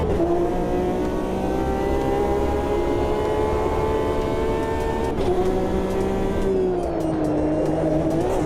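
A race car in a racing video game holds a loud, continuous engine whine with shifting pitch, its tyres slipping and squealing through the corner, no voices over it.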